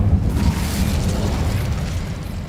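A fire spell is cast in Hogwarts Legacy, a loud, dense burst of roaring flame and rumble that sustains steadily for a couple of seconds without fading.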